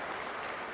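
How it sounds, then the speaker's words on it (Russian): Audience applause breaking out during Putin's 2024 address, a brief, faint wash of many hands clapping with no voices on top. "Вторые аплодисменты."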